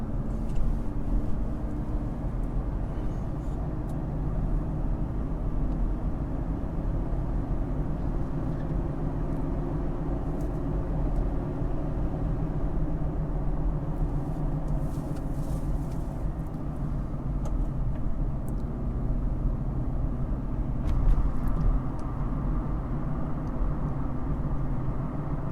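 A Jeep Gladiator towing a Geo Pro camper accelerates onto a highway ramp, a steady low engine drone and road rumble filling the cabin, continuous and even throughout with no talking.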